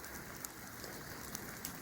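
Steady, quiet rain patters on surfaces outdoors at a maple sugaring operation, a soft continuous hiss with occasional distinct drips and no voices.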